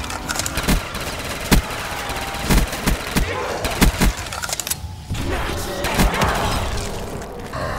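Gunfire in a Call of Duty Black Ops 2 custom zombies map built in a Minecraft style, with loud sharp shots in quick irregular bursts and brief booms over a busy, dense game soundscape.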